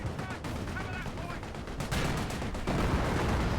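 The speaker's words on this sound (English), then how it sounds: "Captured Vickers, firing away from the garrison" A captured Vickers machine gun fires from a garrison in Company of Heroes, the battle's dense, continuous gunfire and heavy impacts roaring loud and close, with the noise thickening toward the end.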